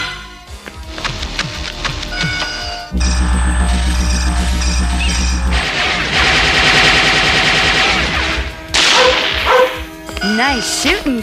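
Cartoon gunfire in an animated RoboCop show, rapid pulsing shots and zaps mixed with barking-like effects, music and character voices, loud throughout.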